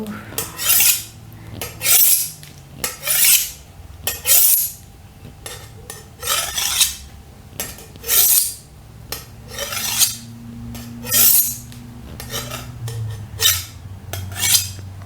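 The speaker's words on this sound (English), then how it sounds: "I hit the noise of steel on steel" Repeated rough metallic scraping strokes of a knife against steel, roughly one every second, with faint clinks of utensils between them, close and fairly loud.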